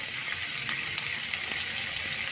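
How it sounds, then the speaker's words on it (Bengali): Whole cumin seeds dropped into hot oil in a wok, a bright, dense sizzle with small crackles and pops, steady and close throughout. "এবার একটু গোটা জিরা ফোড়ন দেব"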